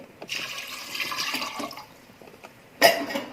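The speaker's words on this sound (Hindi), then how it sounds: "और साथ में ही 2 कप पानी डालेंगे।" Water splashes and pours into a metal pressure cooker holding chickpeas in uneven bursts, ending with a sharp clank.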